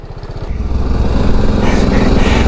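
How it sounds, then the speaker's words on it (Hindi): A touring motorcycle on a forest road near Chopta in Uttarakhand, its engine pulsing at idle and then rising into a loud, steady rumble up close, with a voice faintly underneath. "अरे भाई तेरी बाइक की आवाज़ से सब डर जाते हैं।"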